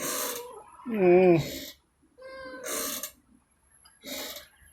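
A cat meows several times in short, wavering cries, interleaved with a person speaking softly nearby.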